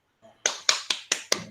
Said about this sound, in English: give a round of applause for Professor Bonde